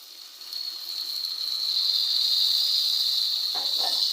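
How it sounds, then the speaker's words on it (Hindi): Water poured into hot masala in a pan for aloo gobi, a steady bright hiss of steam and sizzle that swells and holds, with a soft clink near the end; no speech. "अब मैं इसमें डालूँगी थोड़ा सा वाटर।"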